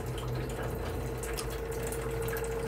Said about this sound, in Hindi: ये पानी आना शुरू हो गया।